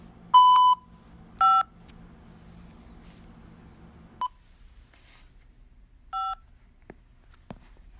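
Telephone keypad dialing tones on a Global Tel Link prison phone call: a handful of separate bright beeps, two longer ones near the start and shorter ones later, over a quiet line with faint background hiss.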